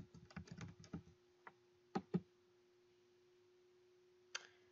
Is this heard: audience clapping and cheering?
no